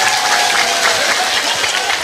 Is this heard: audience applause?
yes